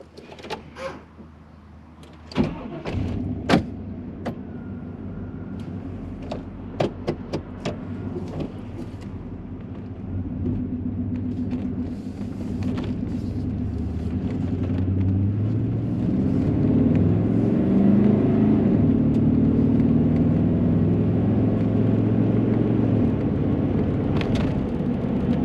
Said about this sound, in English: We'll start it up. We'll go down this bumpy road here.